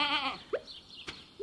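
In the farming game Stardew Valley a sheep bleats once with a wavering, nasal cry, followed by short chirpy game sound effects, all close and clear.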